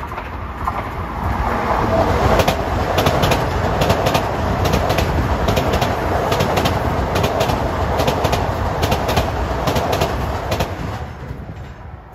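An LIRR train runs along the triple track at Elmont, a loud, steady roar with rhythmic clickety-clack of wheels over rail joints, while birds call faintly in the background.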